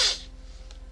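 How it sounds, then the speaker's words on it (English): A person gives a single quick nasal sniffle at the very start, followed by near quiet with a faint low hum. "sorry for sniffling"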